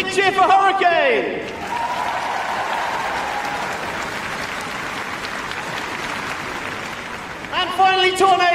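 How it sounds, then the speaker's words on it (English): Arena crowd at Crufts 2018 claps and cheers for the RAF Hurricane display team, steady dense applause framed by a loud amplified announcer speaking at the start and again near the end. "A big cheer for Hurricane!"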